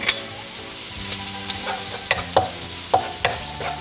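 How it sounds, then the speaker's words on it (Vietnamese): Onion and garlic sauté in a hot pan for a Vietnamese salmon luc lac, a steady close sizzle broken by several sharp scraping stirs and clacks of the utensil, with no one talking. "Trước hết thì là mình phải xào hành với tỏi."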